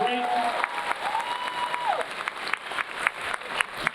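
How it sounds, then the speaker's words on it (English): Graduation audience applauding a school choir, a dense wash of clapping with a few sharper claps standing out, steady and fairly full throughout. "Let's give another round of applause to our wonderful choir"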